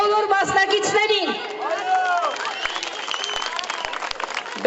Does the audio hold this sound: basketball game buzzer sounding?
no